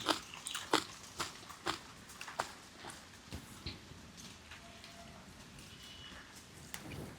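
Someone bites into fried chicken with close, crisp crunches, sharp and repeated early on, then softer, quieter chewing.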